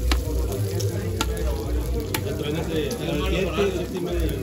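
About five cloves of finely chopped garlic hit hot oil in a soup pot over a camp stove, giving a loud, even sizzle with stirring clicks and scrapes and a voice faintly underneath.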